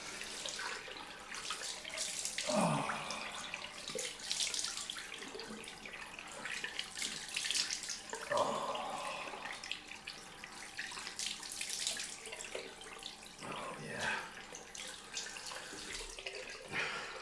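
Cold water runs from a tap into a sink for a long stretch, with intermittent splashing and scooping as someone rinses their face after a shave, nearby; one brief exclamation is heard.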